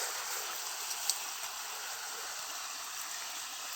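Irrigation water flows steadily into a lemon orchard nearby, a constant rushing hiss with faint gurgles and one small splash.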